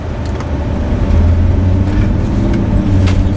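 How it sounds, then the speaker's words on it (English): Toyota Land Cruiser 100 with a 1HD-FTE turbo diesel engine driving on a road, a steady low engine drone with road noise from inside, rising slightly as it pulls away. "this is what it feels like to drive an LC100."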